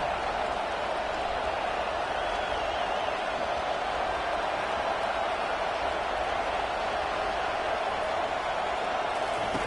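Steady, loud roar of a stadium crowd at a college football game in NCAA 25, swelling before a big third-down play and holding as an unbroken wall of noise with no talk over it.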